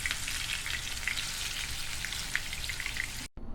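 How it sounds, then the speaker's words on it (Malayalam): Fish fries to a medium finish for a fish biryani, giving a steady, dense sizzle and crackle close by. It stops abruptly just before the end. "ഈ ബിരിയാണിക്ക് വേണ്ടിയിട്ട് നമ്മൾ ഒരു മീഡിയം രീതിയിൽ വറുത്തെടുത്താൽ മതി"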